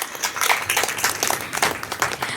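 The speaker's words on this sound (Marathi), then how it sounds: "त्यांच्यासाठी जोरदार टाळ्या" An audience breaks into loud, dense applause at a school reunion and honouring ceremony, steady clapping alone with no voices over it.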